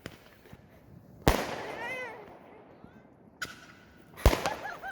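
A few sharp fireworks bangs burst at irregular intervals around 9 pm in a neighborhood in Port Townsend, echoing distantly in the open air, with faint talk and crackle between them.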